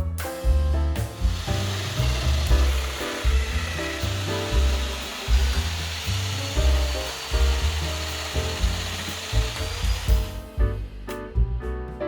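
A domino joiner cuts mortises into long floating shelf boards, its loud motor whining steadily with repeated plunging, chattering cuts through the wood, then stopping abruptly near the end.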